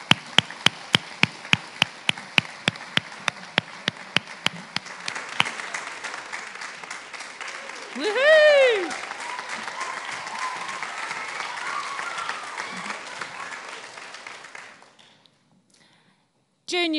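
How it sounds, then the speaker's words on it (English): Junior school audience applause at a 2021 prize giving, opening with distinct individual claps that swell into broad clapping, while a brief rising whistle-like tone cuts through before the applause fades to near silence. "the junior school need to give ourselves a round of applause"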